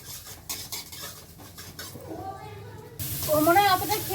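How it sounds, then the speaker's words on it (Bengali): Spinach with mung dal goes into hot oil in a pan and is stirred, a close clatter of a utensil against the pan followed by rising sizzle, with someone talking over it. "শাকটা তেলে দিয়ে দেবো।"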